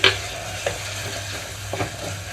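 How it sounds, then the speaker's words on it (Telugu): Tomato drops into a pan of fried onion and garlic paste, bringing a steady sizzle with a few soft stirring clinks and scrapes close by. "ఉల్లిపాయ పేస్ట్ అంతా కూడా వెల్లుల్లి పేస్ట్ అంతా చక్కగా వేగిపోయిన తర్వాత ఇందులోకి టమాటో వేసుకుంటున్నాను"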